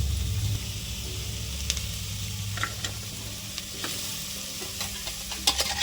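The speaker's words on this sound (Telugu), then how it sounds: "ఇప్పుడు మనం గ్రైండ్ చేసుకున్న పల్లీలు అండ్ మిర్చీలు వేసుకుందాం." Ground peanuts and chillies fry in a pan for a raw peanut curry, giving a steady close sizzle with scattered scrapes and clinks of stirring throughout, no voices.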